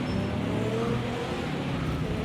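Vintage prototype race cars in a racing game running near Monaco's tunnel and harbour, engines droning steadily close by as they pass, with a faint voice under the engine noise.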